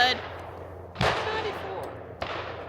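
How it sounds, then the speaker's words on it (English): Gunshots at an outdoor shooting range: three loud, sharp reports, one at the start and two more about a second apart, each with a short ringing tail. "Those shots should be consistent."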